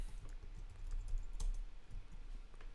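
Typing on a computer keyboard while writing code, soft steady key taps close by with a couple of louder keystrokes over a low hum.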